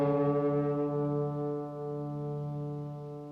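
An out-of-tune acoustic guitar string rings out in a single sustained note, its tone slowly beating with a wavering wobble as it fades.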